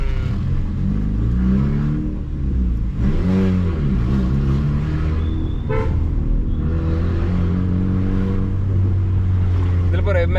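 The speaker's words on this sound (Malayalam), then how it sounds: "വണ്ടി ഐഡിലാകുമ്പോ അത്ര സൗണ്ട് ഇല്ല അല്ലേ?" A 2008 Honda Civic Sport (140 hp) idles at low RPM with a steady, low engine hum running throughout, while people talk over it inside the car.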